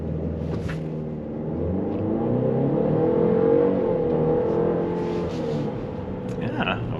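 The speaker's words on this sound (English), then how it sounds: "Alright, so I'm going to get ready to do the launch test here." A 2023 Cadillac XT4 crossover in sport mode with all-wheel drive engaged and traction control off launches hard, its engine rumbling and revving, swelling to a peak midway, then easing off over several seconds.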